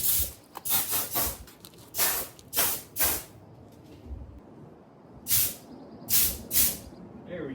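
Compressed air at about 50 psi bursts through a small hose into an Audi A4 sunroof drain in a series of short, loud hissing blasts, separated by brief pauses.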